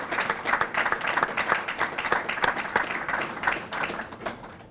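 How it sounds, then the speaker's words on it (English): Audience applause at a county officials' announcement, a few seconds of moderately loud, uneven clapping from a crowd with no talking over it. "Let's give them a round of applause."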